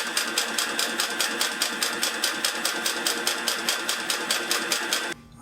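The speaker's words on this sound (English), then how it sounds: "get my binding in the machine, and I'll sew a little bit" A Pfaff 335 sewing machine fitted with a vibrating binder sews binding in a fast, even mechanical chatter that runs steadily and close, then stops abruptly near the end.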